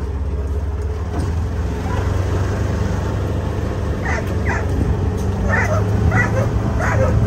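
Dogs bark and yip in short bursts at lure coursing training, with breeds including Belgian Malinois, Dutch Shepherd, boxer and mastiff, the clustered barks growing more frequent toward the end over a steady low engine-like hum.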